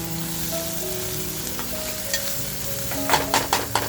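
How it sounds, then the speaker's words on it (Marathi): Spice masala for mutton liver frying in a pan, a dense continuous sizzle with a few spoon scrapes near the end, no talking. "मसाला आपला असा खमंग फ्राय झालेला आहे"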